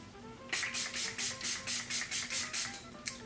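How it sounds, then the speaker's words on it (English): A spray bottle mists setting spray onto a face over powdered makeup in about ten short, evenly spaced hissing bursts, close and clear with no talk. "we're going to give ourselves a spray"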